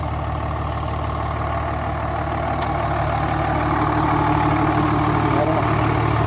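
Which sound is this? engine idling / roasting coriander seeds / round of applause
engine idling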